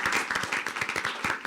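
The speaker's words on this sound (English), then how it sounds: "let's give her a round of applause" Brief burst of applause at a school board meeting for a high school counselor, with close, rapid hand claps from a small group in a quick, uneven rhythm.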